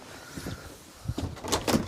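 A caravan door pushed open, giving a few soft knocks and rattles followed by brighter scraping and clunking near the end, heard close up in a quiet interior.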